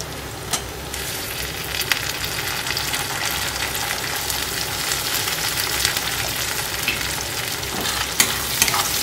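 Chopped tomato and onion hiss and sputter in a hot pan while being stirred, a close, steady frying sizzle with scraping strokes and a few sharper clacks of the spoon against the pan.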